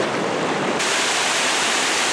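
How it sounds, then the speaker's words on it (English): Ramona Falls on Mt. Hood in snow, a steady loud broadband roar of falling water heard up close, rushing without break, with no voices. "I made it to Ramona Falls"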